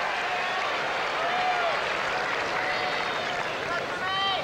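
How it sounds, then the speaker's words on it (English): Emotional, noisy tennis crowd at the 1991 U.S. Open quarterfinal between Jimmy Connors and Paul Haarhuis, a dense roar of applause and cheering with whistles that holds steady throughout. "very emotional reaction of the crowd and noisy reaction of the crowd"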